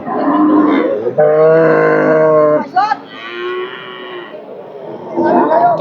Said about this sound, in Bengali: আজকের বাজারে বড় বড় গরু আছে বিশেষ করে মানে দুধের গরুগুলো